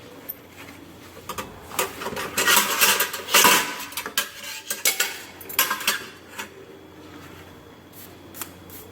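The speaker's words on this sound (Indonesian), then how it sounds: "Cuci, kemudian alat-alat kita sikat ke arah keluar." Metal utensils are scrubbed with a brush during washing, giving a busy run of close rasping brush strokes and clattering metallic clinks that swell in the middle and then thin out to scattered knocks.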